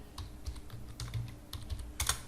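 An npm command is typed on a computer keyboard, a quiet run of irregular key clicks in short bursts, close up and with no talking.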